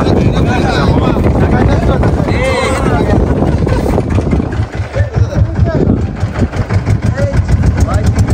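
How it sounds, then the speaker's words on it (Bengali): A trawler engine runs steadily as the boat pulls away on a Sundarbans fishing trip near Putney Island, a continuous low drone with wind buffeting the microphone and people talking over it. "ট্রলার ছেড়ে দিচ্ছে আমরা"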